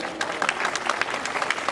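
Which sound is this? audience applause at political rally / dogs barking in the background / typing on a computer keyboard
audience applause at political rally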